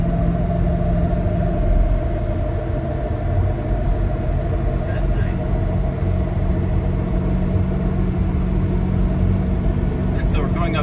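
A 2023 Ford Super Duty pickup truck engine drones and rumbles steadily at close range while towing up a grade, with downshifts, and someone talking over it throughout.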